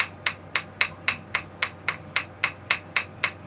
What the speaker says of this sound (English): Yes, I am taking a hammer to the carburetor.